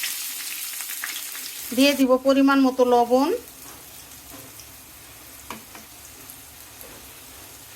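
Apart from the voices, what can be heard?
chopped onion frying in hot oil in a pan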